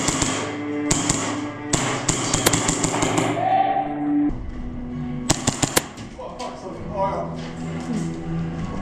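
Airsoft close-quarters game inside a hotel: loud sharp cracks and rapid bursts of gunfire, with grenade-like pops, echoing through indoor corridors while players shout over the action.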